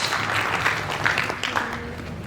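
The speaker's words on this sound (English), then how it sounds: "Please, a round of applause as she makes her way to stage." Audience applause at a women's summit as a speaker walks to the stage, steady clapping from a large crowd throughout, with faint voices underneath.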